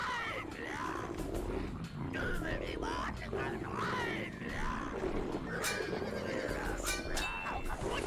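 A horse whinnies several times in the Sacred Gold fantasy game, loud and close over a busy, rumbling game soundscape. A few bright tonal effects chime near the end.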